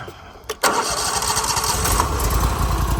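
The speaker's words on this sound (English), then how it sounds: "we'll get the mill fired up, cut again." A Hud-son Oscar 336 sawmill engine cranks and catches, then settles into a loud, steady, close running rumble, with a voice briefly audible.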